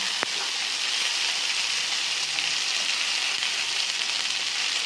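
Steady, dense sizzling of chopped tomato added to fried onion in a pan, continuous and fairly loud throughout with no voices.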